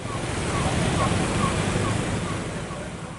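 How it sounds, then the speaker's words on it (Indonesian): Floodwater from the Wanggu River in Kendari, overflowing after heavy rain, makes a steady loud rushing roar with wind buffeting the microphone throughout. "Banjir akibat meluapnya Sungai Wanggu usai daerah itu diguyur hujan lebat."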